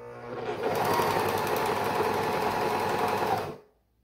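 A sewing machine stitching a sleeve along a curve through fabric with mesh layers, a close, steady rapid whirring run of about three seconds that starts up and then stops abruptly.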